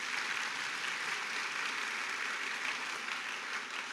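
A church congregation applauding the Lord during a sermon: a steady, distant wash of many hands clapping at once, faint and even throughout, with no voices over it.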